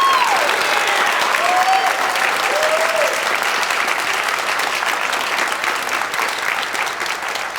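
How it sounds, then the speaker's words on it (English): A hall full of people applauding the youth at a Nashua, New Hampshire Boys & Girls Club Hall of Fame event, dense sustained clapping that fades slightly toward the end, with a few whistles over it. "one more round of applause for all of our youth"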